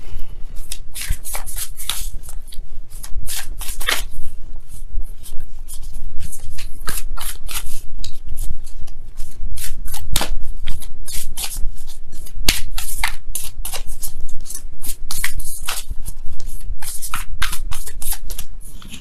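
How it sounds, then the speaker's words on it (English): Tarot cards being shuffled over and over, crisp riffles and flicks in quick bursts, close up and continuous with no talking. "let me go ahead and really shuffle."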